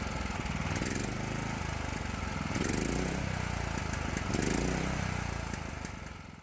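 A Predator 420cc Hemi small engine runs steadily with a low, rumbling mid-pitched drone, close and loud throughout, swelling slightly in a couple of cycles, no voices.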